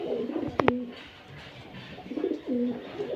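Pakistani high flyer pigeons coo softly in a few low, throaty rolling phrases, close by, with a brief sharp knock near the start.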